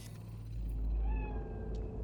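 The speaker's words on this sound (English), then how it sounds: "That cat?" A cat in the video game Cyberpunk 2077 gives one drawn-out meow, close and clear over a low rumbling game ambience, with no talk.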